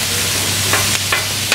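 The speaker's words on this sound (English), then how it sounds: "Ooh, hear that sizzle?" Chicken and onion sizzle loudly and steadily on a 36-inch Blackstone rolled-steel griddle, with a couple of brief scraping stirs cutting through the constant frying hiss.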